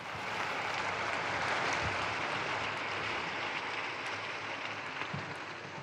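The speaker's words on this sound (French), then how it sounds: "Je vous demande d'applaudir la bienheureuse Anna" Applause from a large crowd at the Sunday Angelus for blessed Anna Kolesarova: a dense, steady wash of distant clapping that holds evenly for about six seconds with no clear voices.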